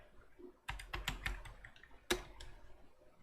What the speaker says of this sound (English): Now simply type apt get